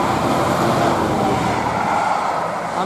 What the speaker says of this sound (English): we've got a seemingly mystery freight train coming through